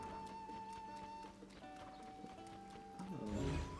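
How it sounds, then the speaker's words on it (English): Rhythmic clip-clop of horse hooves in a video game, steady and moderately quiet beneath sustained game music, with a brief louder burst near the end. "Yeah, this is my new horse."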